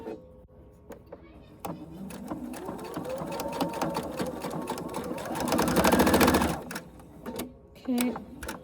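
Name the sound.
sewing machine back stitching a mini wallet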